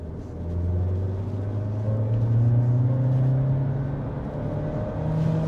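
A BAIC X55 front-wheel-drive SUV accelerates in sport mode, its engine rising in a steady climbing drone with a low rumble inside the cabin, no talk over it.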